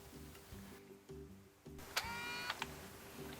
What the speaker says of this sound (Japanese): シャッターボタンを押します。 ミラーが下りましたね。